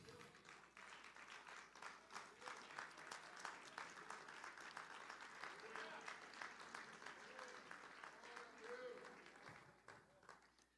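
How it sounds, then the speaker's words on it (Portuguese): A church congregation applauds during a worship service, steady dense clapping filling the room for the whole stretch, with voices calling out faintly beneath the applause. "Aplauda o nome do Senhor."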